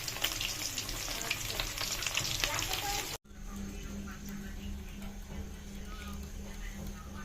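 Chicken wings frying in hot oil, batch by batch, for barbecue wings: a steady, dense crackling sizzle running throughout, briefly cut off by a short gap, then resuming slightly quieter with a low background hum.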